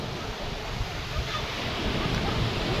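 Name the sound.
waves at Murud beach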